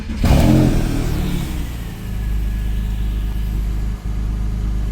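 A Porsche 996 with an M96 engine cranks and fires with a brief loud rev, then drops to a steady, deep idle rumble heard up close with no talking.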